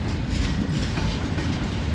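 A long freight train rolls past at close range, a loud continuous rumble and roar of wagons with rhythmic clickety-clack of wheels over rail joints, no voices.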